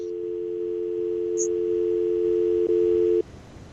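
A steady two-tone phone signal on a radio broadcast call-in line holds for about three seconds, then cuts off abruptly, loud and close, with a faint chirp partway through.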